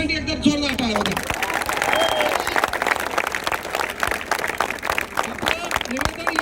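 Students at a protest in Chhatrapati Sambhajinagar give loud, sustained applause for police, dense clapping from a crowd that carries through the whole stretch with voices shouting over it.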